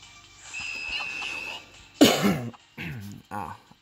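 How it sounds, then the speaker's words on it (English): A man coughs hoarsely several times while playing the mobile game One Piece Bounty Rush, with a harsh burst after a low murmur and a few shorter coughs following, close to the microphone. "I wish I could quit coughing."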